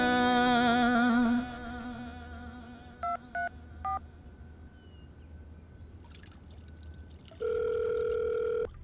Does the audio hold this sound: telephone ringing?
yes